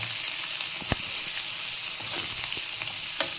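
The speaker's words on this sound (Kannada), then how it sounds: "ಫ್ರೈ ಮಾಡಿ ಆದಮೇಲೆ ಸ್ವಲ್ಪ ಕೊತ್ತಂಬರಿ ಸೊಪ್ಪು ಹಾಕಿ ಫ್ರೈ ಮಾಡಿ" Coriander leaves frying in a pan give a steady close sizzle, with a few sharp crackles and stirring scrapes breaking through and no voices.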